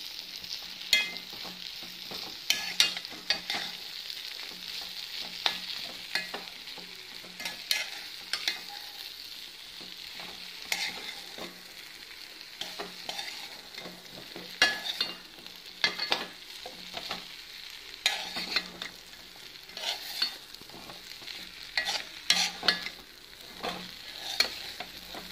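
Fried soy chunks are stirred into a tomato curry in a pan. Quiet, steady frying sizzle runs underneath while repeated soft scrapes and clicks of a spoon sound at an irregular rhythm.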